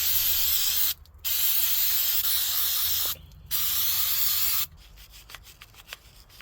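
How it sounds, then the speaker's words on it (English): Aerosol cleaner sprayed into crusty carburetors from a Yamaha FZR600 motorcycle laid up for 20 years, two long loud hissing bursts with short pauses, then quieter clicks and handling noises. "Next step is just to take all the jets out and then start spraying."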